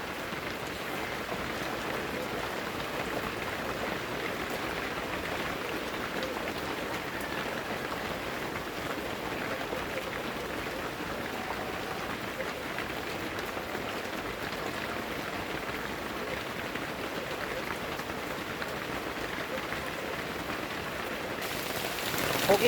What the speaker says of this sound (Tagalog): malakas ang ulan dito sa amin